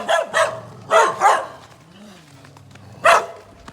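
Dog barks outdoors in Jamaica, a few sharp bursts spaced out over a few seconds, fairly near, with quiet background sounds between.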